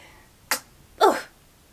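A quick sharp burst followed by a louder, breathier explosive sneeze about half a second later, close by in a quiet room.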